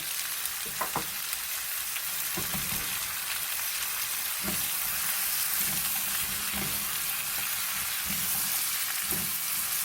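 Zucchini stir-fried in a pan with onion, garlic and salted fermented shrimp, giving a steady close sizzle with scattered soft clicks of a utensil stirring through the vegetables, no talking.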